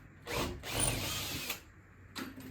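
A handheld power driver whirs in a few short bursts, with a brief pause between runs and a quick final spurt, close by.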